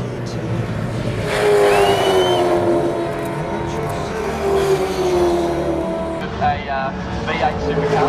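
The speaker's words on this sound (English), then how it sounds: "A V8 supercar." V8 Supercar racing engine at the Bathurst 1000 in 2014, a sustained loud roar with rising and falling engine tones as a car passes, under a commentator's continuous talk.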